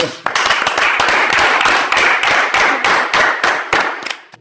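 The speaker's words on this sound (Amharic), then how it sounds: "አረ ጭብጨባ" An audience claps in a loud, steady rhythm, roughly four sharp beats per second, close by and driving, with occasional louder hits and no voices over it.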